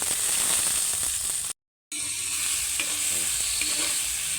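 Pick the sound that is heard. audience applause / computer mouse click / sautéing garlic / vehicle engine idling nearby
sautéing garlic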